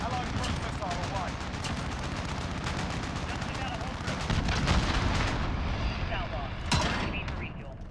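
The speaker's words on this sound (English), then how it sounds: "Allied cruise missile away." A cruise missile strike in a 32 vs 32 Ground War match of Call of Duty Modern Warfare brings a dense, continuous barrage of rumbling explosions and rattling gunfire, with faint voices at times.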